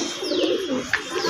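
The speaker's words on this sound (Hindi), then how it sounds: "देखिए दोस्तों ये जंगली कबूतर है दोस्तों" A wild pigeon coos softly in a brief, low, rolling call, with a faint chirp in the background and no talking.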